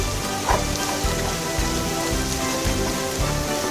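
Onions and chili frying in a pan for a dhaba-style egg curry, a loud, steady crackling sizzle up close that holds evenly throughout with no voices.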